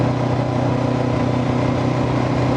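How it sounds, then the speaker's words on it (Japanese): A Honda 400X motorcycle engine pulls steadily in third gear at around 3,600–3,700 rpm while climbing a sloped mountain road, a dense, continuous mid-pitched drone with a rising tone and constant wind rush. "気持ちいいな、この回転のエンジンの回ってる感じ"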